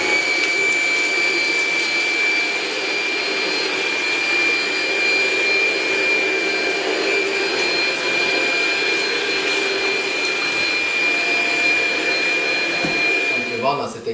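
Shark SharkFlex DuoClean vacuum cleaner running steadily, a continuous whirring motor drone with a thin high whine, close and even in loudness, cutting off at the end.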